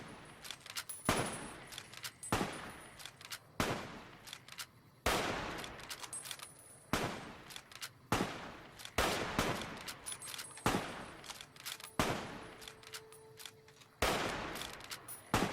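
Hunting rifle fire in the video game Fallout New Vegas: a run of sharp, loud shots spaced roughly a second or two apart, each followed by a short decaying tail and the clatter of reloading between them.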